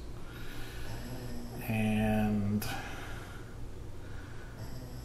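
A pet snores in the background of a room where someone practises piano, with one louder, drawn-out snoring breath standing out over a low, steady hum.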